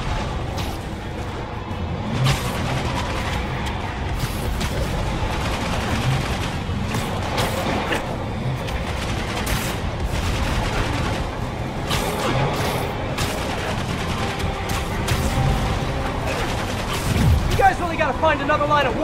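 Gunfire in the Marvel's Spider-Man Remastered action game, a steady din of shots and crashing mechanical noise filling the whole stretch at close, loud level with no talking.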